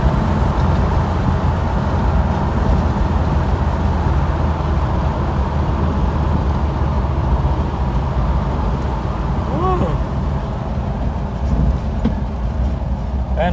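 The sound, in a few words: off-road rig engine running while driving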